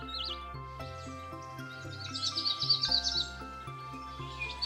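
A Cetti's warbler in dense riverside thicket gives a short burst of bright chirping notes over a steady musical backing, fairly faint and brief.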